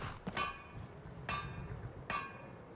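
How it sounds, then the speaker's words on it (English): Three sharp metallic hammer strikes ring out at a blacksmith's forge in Skyrim, about a second apart, each clanging hit leaving a bright, shimmering tail over a low background hum. "I can hear you hammering away."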